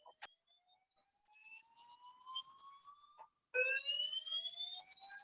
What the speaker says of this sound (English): Sounds like a fire alarm.